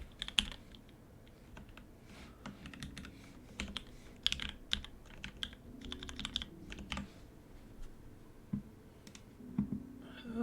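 A Sesame Ergo keyboard with lubed and filmed Gateron Milky Yellow switches is typed on. Quiet, irregular bursts of soft keystrokes and clicks come close up, with short pauses between runs and no speech.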